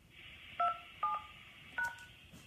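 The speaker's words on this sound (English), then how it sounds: "touch-tone phone, please enter your PIN number." Touch-tone phone keypad dialing a PIN, three short distinct tone beeps spaced about half a second apart, close and clear over a faint background hum.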